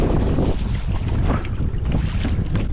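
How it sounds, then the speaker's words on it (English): Wind blows steadily across open water on a fishing trip in Hong Kong, a loud, continuous broadband roar with gusting buffets against the microphone and no talk. "The wind is straight on my face."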